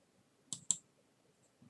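Two quick, close mouse clicks in a row, sharp and crisp against a quiet room, followed by a faint shuffle.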